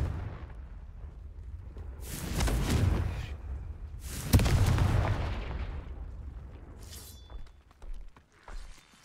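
Two heavy, booming spell blasts from the Confringo spell in the Hogwarts Legacy video game burst a couple of seconds apart, each rumbling and crackling as it fades, followed by a few smaller clattering hits.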